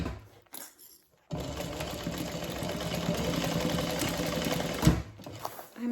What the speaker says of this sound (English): We'll go ahead and just sew these really quick.